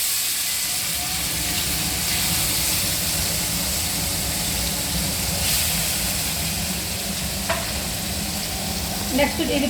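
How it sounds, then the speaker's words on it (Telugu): Water boils hard in a cooking pot for a fish curry, with fish frying nearby: a steady, fairly loud rush of bubbling and hiss, with a few faint clinks toward the end and no talk. "ఇప్పుడు ఇవి నీళ్ళు బాగా మరుగుతున్నాయండి"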